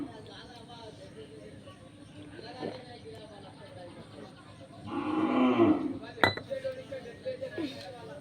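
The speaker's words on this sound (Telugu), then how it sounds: "మా ఇంటి ముంగట ఆవు ఉంటుందండి." A cow standing in front of a house lets out one long, loud, nearby moo midway through. People talk before and after it, and a sharp glassy clink follows soon after.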